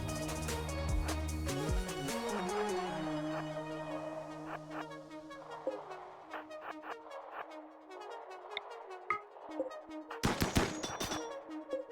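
Mini turrets firing in the colony game RimWorld, giving a long run of light, rapid ticking shots over fading tonal game sounds, then a louder cluster of cracks near the end.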